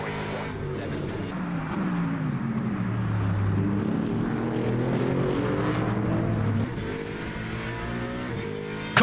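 Several GT3 race cars, including a Mustang and a BMW, roar together in a close pack in the Le Mans Ultimate racing game, a steady loud engine drone with shifting pitch throughout, a voice faintly present.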